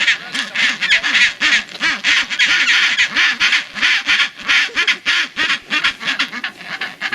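Chinstrap penguins in a display chorus on Halfmoon Island, Antarctica, braying in loud, rapid repeated honking bursts that pulse steadily throughout, close and dense, with no talk over them.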